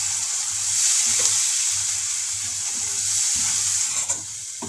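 Spices and tomato puree fry in a pan for an aloe vera sabzi, giving a steady close sizzle and hiss that carries on evenly, with faint stirring and no voices.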